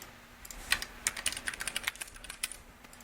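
A new password is typed on a computer keyboard in a quick, irregular run of light key clicks. Tapping is close, soft and continuous for a few seconds, with no voices.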